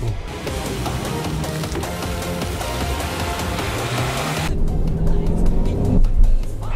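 A cheap Chinese best-selling car's engine runs roughly while driving, a steady loud drone with cabin rumble that swells slightly near the end.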